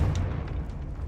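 Confringo fire-blast spell from Hogwarts Legacy, a loud, brief burst of fiery explosive noise with a deep booming body that fills about a second.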